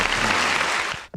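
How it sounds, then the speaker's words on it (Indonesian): A class audience claps together in a short, dense burst of applause that stops abruptly after about a second, close and fairly loud. "Tepuk tangannya dong"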